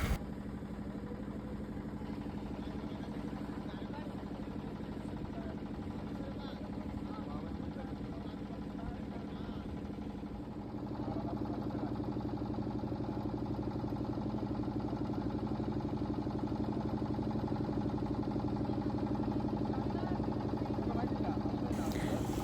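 A boat engine running on the river at Varanasi, a steady low droning hum throughout that thickens and grows a little louder about halfway through, heard from on board with no one speaking.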